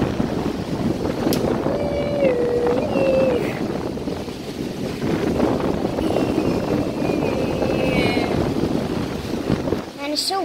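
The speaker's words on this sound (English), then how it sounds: "Man, it's so windy out." Steady outdoor wind roar buffeting the microphone throughout, with a faint tonal whine drifting in and out over the rumble.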